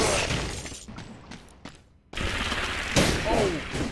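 A grenade bursts in a video game: a sharp shattering blast, a brief lull, then another loud, noisy explosion with debris, voices faintly mixed in.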